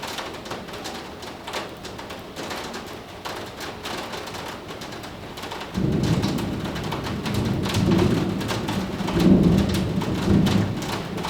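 Steady rain falls throughout, joined about halfway by low rumbling thunder that swells in a few loud rolls, with faint bird calls in the background.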